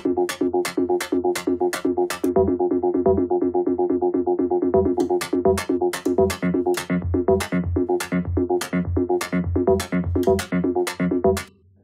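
A 1979 DAO synthesizer, sequenced through Buchla modules and gated, plays a rapid, steady stream of short pitched pulses for about twelve seconds, punctuated by bright clicky accents, alone and at even loudness.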